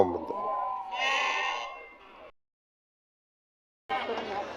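Sheep bleat at the Amingad sheep and goat market in Karnataka, wavering calls over background chatter from people nearby, cutting to silence midway before the noisy market resumes.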